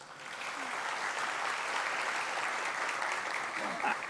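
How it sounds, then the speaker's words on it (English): An audience welcoming a government minister claps in a steady, moderate wash of applause that holds evenly throughout. "with a huge round of applause."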